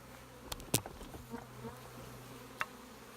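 Honeybees, about 8,000 newly installed, buzz in a hive box with faint, soft humming, broken by a few brief close passes and clicks in a quiet setting.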